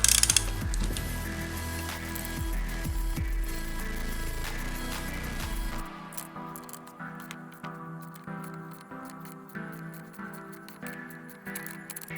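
A part on a Sinpar gearbox is unscrewed by hand, giving a run of close, small metallic clicks and scraping thread turns, with louder clatter early on, then lighter, sparse ticks.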